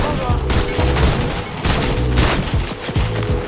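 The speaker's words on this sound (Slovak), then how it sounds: "Ríšo, strieľaj do toho auta" Video game gunfire aimed at a car, with loud, repeated bursts of shots and booms coming in rapid clusters, while voices are heard faintly underneath.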